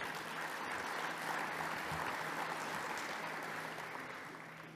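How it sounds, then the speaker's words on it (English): A leadership program audience applauds itself, a thick wash of continuous clapping heard from a distance in a large room, holding steady and then slowly fading toward the end. "Give yourselves a big applause for being here"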